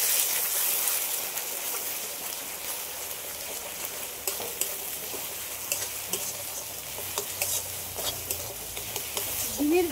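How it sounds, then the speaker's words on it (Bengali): Fish roe frying in a pan with a touch of salt, a steady close crackling sizzle with occasional scraping stirs, running alone throughout. "আর ডিমগুলোকে একটু ভালো করে ভেজে নেব"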